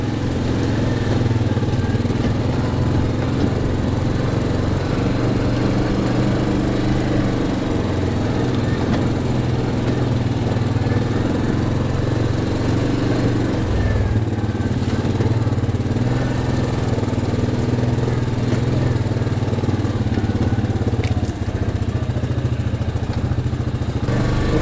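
A Yamaha Grizzly 700 SE ATV engine on a woodland trail, a steady loud mid-pitched drone with a low rumble, constant throughout with faint clatter and no talk.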